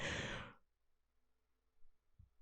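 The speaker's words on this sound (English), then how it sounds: "Excuse me, I did yawn just then." A single yawn ending in a long breathy exhale, then near silence with a faint soft thump.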